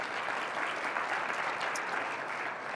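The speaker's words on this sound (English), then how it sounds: "So another big round of applause for all of our sponsors." Dense, steady applause from a conference audience honoring sponsors at an awards celebration, continuous and even throughout with no individual claps standing out.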